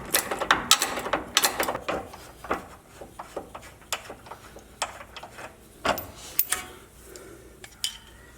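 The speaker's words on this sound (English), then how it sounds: "I'm going to take the 18mm nut off the back of the upper sway bar" A wrench works an 18mm nut off the upper sway bar link of a Jeep JLU, making a run of quick metallic ratchet clicks and clinks in uneven bursts, close by and with no talk.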